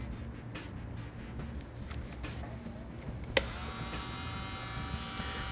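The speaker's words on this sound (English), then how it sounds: "I'm gonna pull my e-file a little bit closer. I'm using a mandrel with a coarse bit on it" A nail e-file drill fitted with a coarse mandrel bit whirs steadily while shaping nails, a constant close electric buzz that shifts to a higher, brighter grinding tone partway through.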